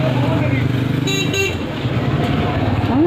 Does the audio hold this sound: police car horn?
yes